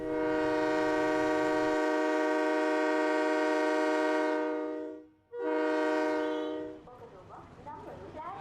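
A train horn at a railway station sounds a long, loud, steady blast, breaks off briefly, then blares again before fading into a low rumble and background noise.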